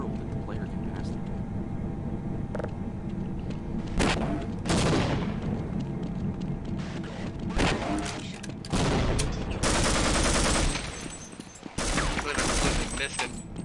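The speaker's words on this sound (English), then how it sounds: "Whoa, who's shooting at me?" Gunfire in the shooter game Half-Life, with loud bursts of automatic fire and sharp booms in clusters against a continuous game background.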